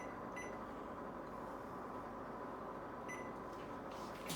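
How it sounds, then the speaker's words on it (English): Oven timer set to 30 minutes, giving two short, faint electronic beeps a few seconds apart over a low steady hum of the appliance, no voices. "Set my timer at 30 minutes."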